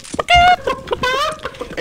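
Chickens cluck and crow in the video game CS:GO, loud warbling fowl calls in a few bursts with short pauses between them.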